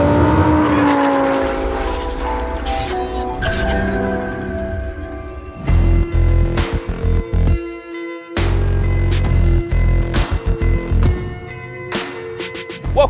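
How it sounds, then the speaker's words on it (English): A twin-turbo, roughly 1,300 hp 2015 Lamborghini Huracan accelerates hard on a runway, its engine rising loud and close from a low cruise into a roaring pull. Sharp gear-change breaks and bursts punctuate the second half. "And then we just step into it like this. Wow. And those turbos kick in."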